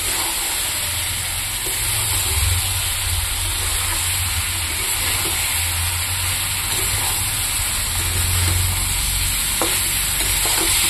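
Cauliflower sizzles in hot oil with already-fried potatoes and spices as a utensil stirs the pan, a loud, steady crackling with scraping strokes running throughout.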